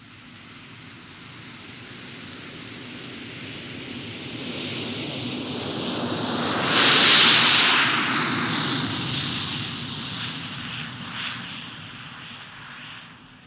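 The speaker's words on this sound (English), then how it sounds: "That was a Douglas DC-8, blasting down the runway on its way to San Francisco." A Douglas DC-8 jet airliner takes off down a London airport runway, its roar building from a distant rumble to a loud, hissing peak midway, then slowly fading as it departs.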